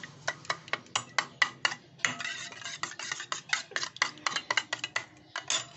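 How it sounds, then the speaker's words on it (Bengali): Eggs being whisked by hand in a bowl, a quick run of sharp clicking utensil strikes against the bowl in an uneven rhythm, close and fairly faint, with no talk. "আমি আগে ডিমটা ভালো করে ফেটিয়ে নিচ্ছি"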